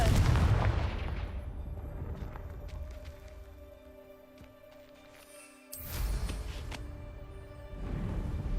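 Confringo fire-blast spell cast in Hogwarts Legacy: a loud broadband burst at the start and a second sharp blast near the middle, set over sustained game-music tones with no talking.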